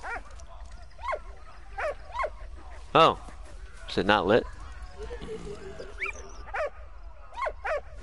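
A dog in the World War I video game Valiant Hearts gives short repeated barks and whimpers among game effects, while a player talks over them.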